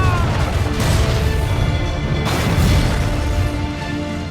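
Cannon fire and explosions rumble through a pirate naval battle in an Assassin's Creed 4 game trailer, a dense, loud, continuous barrage of booms and crashes with swelling bursts and no speech.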